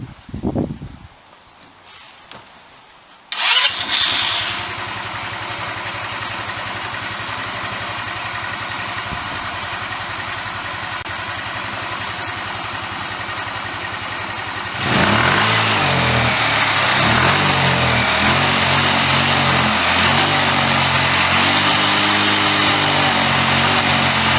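A rebuilt Chinese GY6 scooter engine is cranked and catches after a few seconds of starter whirring, then settles into a steady, even idle. A louder, rougher beat comes in for the last stretch, with no talking throughout.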